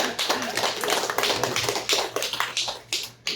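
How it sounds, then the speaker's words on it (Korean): A church congregation at a Sunday worship service claps together, fairly close, with a rapid patter of hands in loose bursts that rises and dips, tapering off toward the end. "우리 박수 한번 쳐드리십시다"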